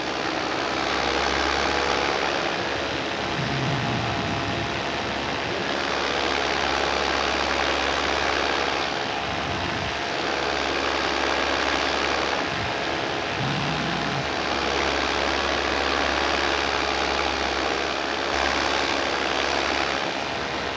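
A steady, droning four-stroke paramotor engine in flight hums continuously with a low rumble, holding nearly constant power throughout, with no talking.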